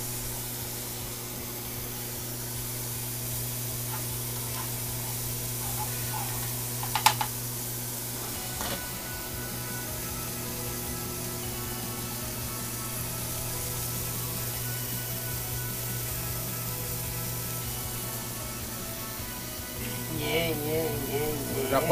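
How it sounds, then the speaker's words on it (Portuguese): Butter sizzling in a frying pan while an Angus burger cooks, giving a steady, close hiss that runs through the whole stretch, with a brief clatter partway and a voice heard near the end. "Agora vai essa manteiguinha aqui nessa frigideira"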